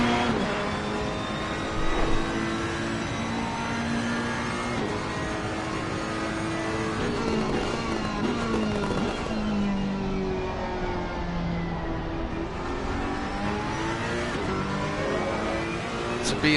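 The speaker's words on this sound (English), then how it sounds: "he'll be able to hear all of the GT3 cars' engines roar as they make their way past" Several GT3 race car engines roar continuously at Laguna Seca, their pitch rising and falling as cars pass and shift gears, loud and sustained throughout.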